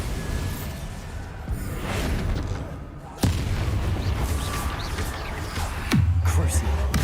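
Blasting spell explosions in Hogwarts Legacy, with sudden booming impacts at intervals over a dense bed of combat noise and game sounds, while a voice shouts spell names between the blasts.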